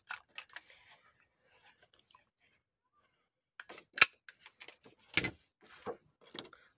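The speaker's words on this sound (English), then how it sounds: "I'm going to get a smaller circle punch and I'm just going to cut a couple of flowery ones out" Small circle paper punch cutting flowery paper shapes for a junk journal, a few sharp close snaps and crunches separated by quiet handling and rustling of paper.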